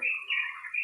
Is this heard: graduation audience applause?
no